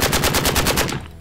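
A full-auto open-bolt rifle firing plastic ammunition at 10 yards lets off one rapid, evenly spaced burst of roughly a dozen close, loud shots before abruptly stopping.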